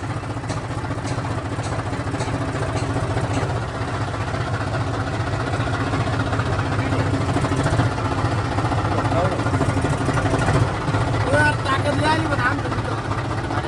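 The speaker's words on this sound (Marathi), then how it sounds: "फायनली ट्रॅक्टर चालू झाला." Tractor engine running steadily after a push start, a continuous low rumbling drone close by with people talking over it.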